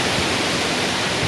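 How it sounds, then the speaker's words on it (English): Wind blows outdoors on a breezy day, a steady close roar of buffeting noise through the whole moment. "As you can see, it is indeed quite breezy today."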